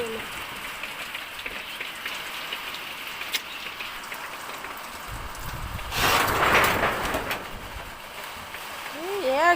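Rain patters steadily, with a heavier splashing surge partway through and a voice briefly audible near the end.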